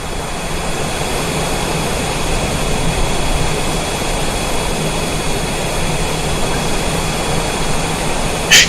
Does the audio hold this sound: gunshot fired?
no